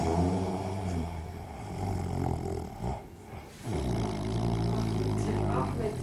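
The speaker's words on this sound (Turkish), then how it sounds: "gene başladın horlamaya" A man snores loudly, with deep, rasping, growly breaths that drop into a brief lull midway before the rough rumbling resumes.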